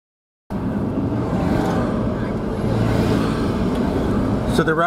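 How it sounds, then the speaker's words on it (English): Pickup trucks with passenger racks in their beds turn into the Indianapolis Motor Speedway during the 2024 Indy 500 tours. A steady, close engine and road rumble rolls on after an abrupt start, with faint background voices beneath. "trucks are turning into the speedway now"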